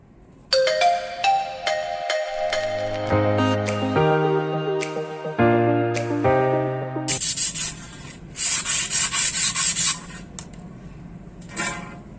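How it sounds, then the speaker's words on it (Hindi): A metal rod is sanded by hand, with rough, rasping strokes in irregular bursts during the second half, after a clear melodic ringtone-like tune plays. "उसके बाद इसको घिसना है मुझे"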